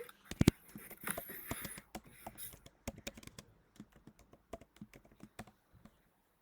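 Computer keyboard keys tapped while writing object-oriented programming code, a steady patter of quiet, close clicks that comes in quick bursts and then thins out into sparser individual keystrokes.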